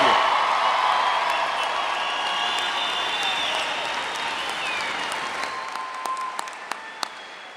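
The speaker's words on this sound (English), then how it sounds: "How about another round of applause for our graduates?" A large audience at a spring university graduation ceremony applauds the graduates, loud sustained clapping with some cheers that gradually thins out toward the end, leaving a few scattered claps.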